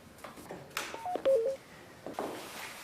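A telephone in a French home setting gives a short run of electronic beeping tones, several distinct pitched bleeps over a quiet background with no talk.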